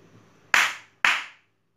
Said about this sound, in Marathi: 2 टाळ्या